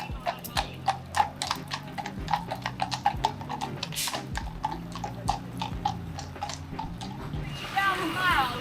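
Horse hooves clip-clop steadily on a hard London street in a quick, regular rhythm, close by, with faint background voices and a brief whinny near the end.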